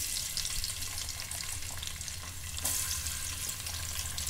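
Two sliced onions sizzle and crackle in hot oil for chicken biryani, a steady close frying hiss with occasional stirring scrapes.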